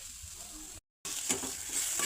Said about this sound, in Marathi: मेथी आपली व्यवस्थित परतून झाली।